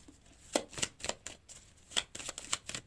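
Tarot cards are shuffled and drawn in a string of crisp, papery riffles and flicks with short pauses between, close up and fairly quiet, with no talking.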